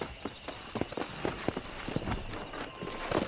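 Horse hooves clip-clop at a gallop in the Red Dead Redemption video game, a rapid irregular drumming of thuds over a steady noisy game backdrop, close and fairly loud.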